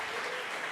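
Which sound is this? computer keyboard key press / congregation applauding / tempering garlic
congregation applauding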